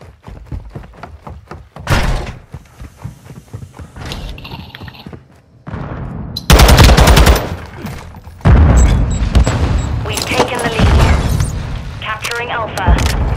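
Airstrike explosions and gunfire in Modern Warfare 2, scattered loud booms and bursts of shots that grow denser and heavier in the second half, with players talking throughout.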